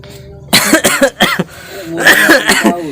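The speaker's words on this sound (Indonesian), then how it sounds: "Saya batuk ditanya umur ini" Several rough coughs in quick succession, near and loud, followed by a longer hoarse cough or throat clearing.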